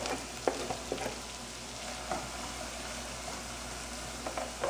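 Carrots fry with garlic in a pan, giving a soft continuous sizzle broken by a few light scraping stirs, close and fairly quiet, with no voices.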